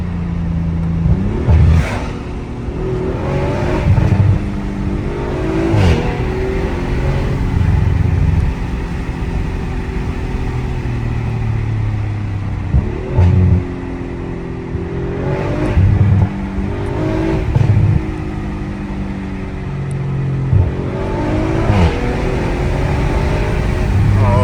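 An Audi RS5 with over 500 horsepower launches hard on a forest road, its engine roaring loud and close through repeated rising revs and sharp gear shifts over a steady drone.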